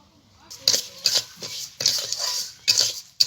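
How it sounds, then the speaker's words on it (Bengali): A utensil stirs Gobindobhog rice as it fries in ghee in a pan, giving a series of sharp, close scraping and clinking strokes separated by short pauses. "চালটাকে আমি একটু লাল লাল করে ভেজে নেব।"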